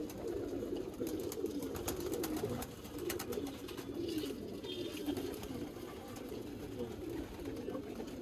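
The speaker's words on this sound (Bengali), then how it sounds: "এটা মাদি কবুতর।" Pigeons cooing steadily throughout, a low continuous murmur of several birds close by, with faint clicks and scuffles over it. The birds are tournament pigeons in Mirpur, Bangladesh.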